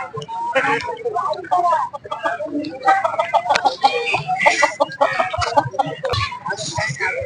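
Chickens cluck and squawk busily at a weekly goat and livestock market in Ghoti, with many birds near and loud in irregular bursts under constant crowd chatter and nearby voices.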